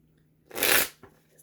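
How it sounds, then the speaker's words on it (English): Tarot cards being shuffled in one quick riffling burst, loud and close, followed by a brief soft tap as the deck settles. "cards can be so hard to shuffle."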